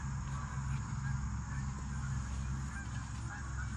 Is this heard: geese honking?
yes